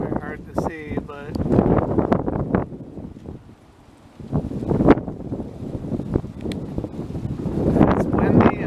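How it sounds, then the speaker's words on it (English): Gusty outdoor wind buffets the microphone in rough, rushing surges that rise and fall, briefly easing before returning strong. "it's windy"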